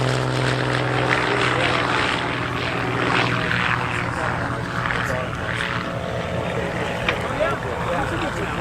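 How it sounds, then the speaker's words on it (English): A propeller airplane on its takeoff roll at an airshow drones steadily at a distance, with a constant engine hum running under a public-address announcer's voice throughout. "Rick is on the takeoff roll right now, and he'll be coming back inbound for his air show routine"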